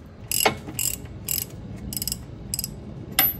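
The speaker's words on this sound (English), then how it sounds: "Now time to remove these big old nuts on the control arms." A wrench ratchets on the large control arm nuts of a G-body car during brake removal: short bursts of metallic clicking come in six or so quick, close spurts with brief pauses between them.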